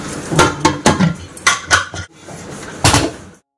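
Pots and dishes clatter and knock as they are washed in a home kitchen. A run of loud metallic clanks comes in irregular bursts, then falls quiet, with no voices.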